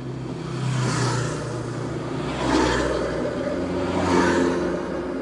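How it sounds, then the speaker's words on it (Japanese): A big car drives through the Yamanaka Tunnel, its engine and tyre rumble echoing loud and steady, swelling twice as it passes close by. "こんなでかい車通ってて。"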